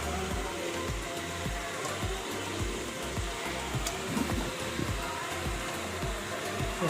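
Crab pieces hitting a pan of softened tomatoes give a steady broadband sizzle, like rain on a hot surface, with soft low thumps of stirring and handling through it.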